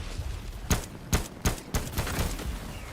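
Four sharp gunshots from a video game crack out at irregular intervals over a low background hum, fairly loud and close, with no talking.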